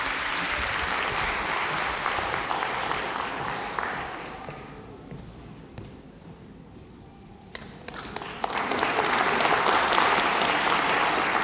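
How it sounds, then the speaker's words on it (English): A stage audience claps to welcome a presenter, steady and full at first, thinning out midway, then swelling again into loud, sustained applause. "Please clap your hands to welcome Ms. Koge on stage for his presentation."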